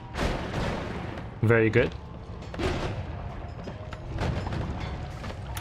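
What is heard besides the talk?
explosions in Noita video game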